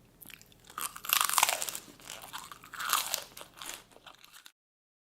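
A bunny munching a big green leaf, rendered as a sound effect: two close bursts of crisp, crunchy chewing with a short pause between them, then silence at the end.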